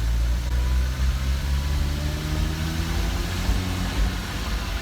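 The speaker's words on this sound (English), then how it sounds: "Who needs exhaust modifications when you can just take your engine cover off?" A Porsche Cayman engine running with its engine cover removed, giving a steady, close mid-pitched drone with a slight rise in revs and no talk.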